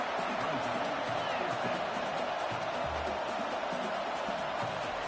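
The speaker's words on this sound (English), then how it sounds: "Crowd trying to make a difference here on 4th down." Stadium crowd noise in a college football video game, heard as a steady, loud roar of a large crowd throughout, with a commentator talking over it.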